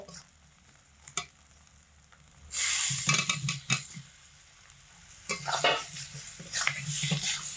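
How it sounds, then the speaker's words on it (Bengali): Boiled pieces of giant taro (mankochu) drop into red-fried spiced masala in a pan for a fish and taro curry, bursting into a loud sizzle with scraping stirs and clinks, calming and then flaring again. "এবার আমি এর মধ্যে সিদ্ধ করে রাখা কচুর পিসগুলোকে দিয়ে দেব।"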